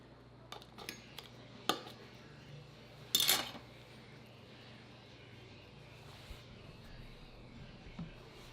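Knife and fork working on a plate while cutting into sous vide and reverse-seared steaks, with a few soft scattered clinks and scrapes and one brighter, louder clatter midway, otherwise quiet.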